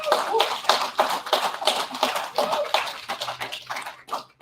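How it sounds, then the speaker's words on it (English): A smaller audience gives a round of applause for local government candidates at an evening event, uneven bursts of nearby clapping that rise and fall and trail off toward the end. "Please, if we can just give them a round of applause."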